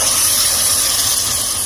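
Tomatoes drop into golden-brown onions frying in a pan for a chicken gravy, and a steady, loud sizzle and hiss fills the whole moment without pause.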